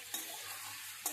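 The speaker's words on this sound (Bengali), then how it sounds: "সবজিটাকে নেড়ে দেবো একটু ভালো করে, এপিট ওপিট করে ভালো করে মশলাটা কষিয়ে নেব" Vegetables and spices are stirred and turned in a pan over a faint steady sizzle, with two quick scrapes of the spoon against the metal and no talking.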